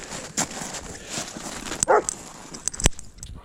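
Dogs outdoors in fresh snow after a snowfall give a few scattered barks and yips at moderate distance, short sharp calls spaced irregularly over a quiet background.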